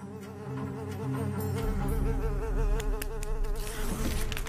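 Flies buzzing steadily at close range around decaying tapir carcass meat, a dense continuous insect drone with wavering pitch that holds throughout and carries no voices.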